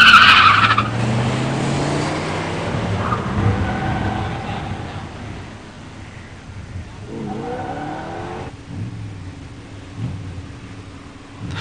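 A 1986 Buick Grand National and a 1972 Dodge Demon 340 automatic racing at a stock drag strip, opening with a loud tire squeal and launch, then engines roaring away and fading into the distance.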